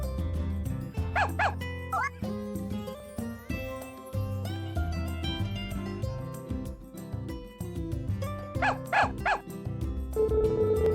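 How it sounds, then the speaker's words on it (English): Stray dogs in a farming video game give a few short yipping barks over looping background music, with a small jingle and a brief whimpering tone. "guess a couple stray dogs settled in here, and it looks like they've already warmed up to you"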